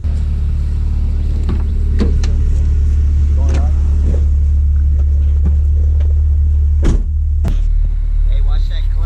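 A Honda Prelude fitted with a short shifter runs with a loud, steady, low engine drone throughout, broken by several sharp mechanical clicks and knocks. Voices talk over it.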